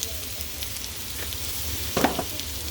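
Okra dredged in flour frying in a pan, a steady close sizzle with brief louder crackles near the end.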